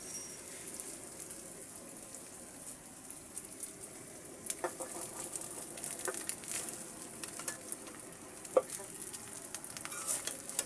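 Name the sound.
cooked rice frying and stirred in pan for fried rice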